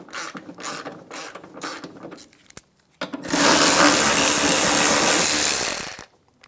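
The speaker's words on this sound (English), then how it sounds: "Using a 10mm socket, we're going to remove the nut for the bracket" A 10mm socket on a ratchet works a bracket nut loose under the hood of a 2007-2017 Ford Expedition: quick rhythmic ratchet clicks in bursts, then a loud, steady whirring run of about three seconds, close and unaccompanied.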